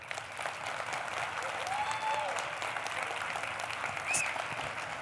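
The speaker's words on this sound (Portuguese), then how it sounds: "E aí, salve de palmas" Audience applause at the close of a health talk, a dense, steady patter of clapping from a sizeable crowd with a few whistles and cheers rising through it, sustained for several seconds.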